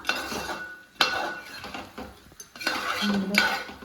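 A spoon stirs chicken varattiyathu, finished with lemon juice, in a metal pan: close scraping and clinking bursts recur over a soft background sizzle, with no talking.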